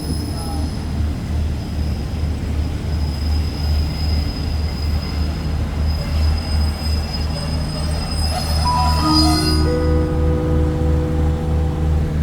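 Express train 83 from Krungthep Aphiwat to Trang rolls into Ban Pong station with a loud, steady rumble, and the wheels and brakes squeal rising tones as it slows near the end.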